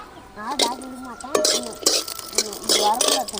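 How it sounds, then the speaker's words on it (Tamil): Chillies soaked in buttermilk sizzle as they fry in a pan while a utensil stirs and scrapes against metal in short repeated strokes, close by. "அடுப்பு கணக்காக வச்சு கருவாக வறுத்து எடுத்துக்கணும்."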